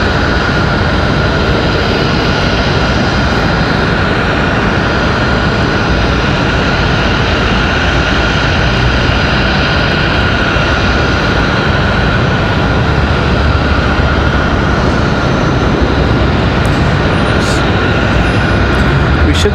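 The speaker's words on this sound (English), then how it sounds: "Here comes Southwest from New Orleans. Gonna land over here in front of us." A Southwest airliner arriving from New Orleans on approach to land at Raleigh-Durham International, a loud, continuous jet engine roar that holds steady throughout, heard close by from a spotting position.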